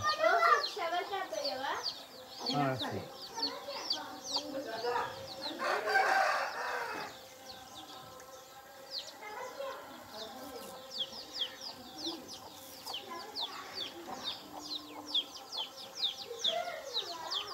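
Chickens and a rooster in a village in Rajampeta, Kadapa during a festival, with clucking and a crow heard amid busy background chatter and people talking throughout.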